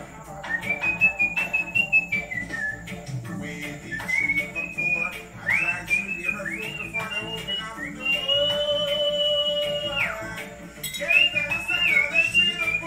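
A person whistles a bouncy tune up close, with wavering sustained notes and short phrases, alongside faint clinks and background clatter.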